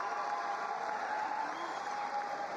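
Crowd noise at a fight, a steady, moderately loud roar of voices and scattered applause filling the arena without a break.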